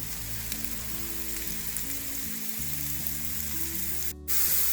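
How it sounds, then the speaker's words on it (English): Sliced mushrooms sauté in a tablespoon of oil for Hakka noodles, a low continuous sizzle with a faint hum beneath, ending with a brief clatter near the close. "After sauteing for a minute"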